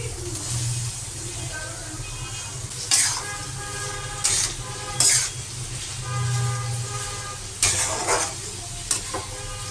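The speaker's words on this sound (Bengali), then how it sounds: "তো আস্তে আস্তে পেঁয়াজটা আমি দিয়ে দিচ্ছি, পেঁয়াজগুলো ভেজে নেবো" Onions dropped into hot oil and stirred in a pan for a mutton curry, giving a continuous loud sizzle broken by several bursts of scraping as the spoon moves, close by with no talking.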